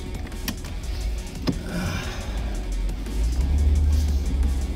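A convertible car's power roof folds down with a steady electric motor whir over a low idling engine rumble, close and fairly quiet, with a couple of sharp clicks early on.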